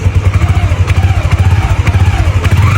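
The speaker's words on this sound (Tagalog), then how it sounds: "Tahimik pa at maganda ang makina ng motor na ito." A motorcycle engine idles steadily nearby, a low rhythmic putter with light mechanical clatter, loud and continuous.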